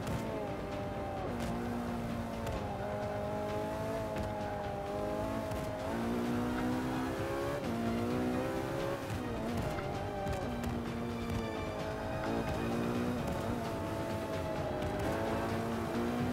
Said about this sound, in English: you hear the nice effect of the engine there and all its glory